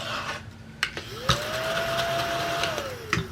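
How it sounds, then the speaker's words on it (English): A small handheld vacuum cleaner whirs close by with a rising then falling motor whine, punctuated by a few sharp scraping clicks. "Need my vacuum."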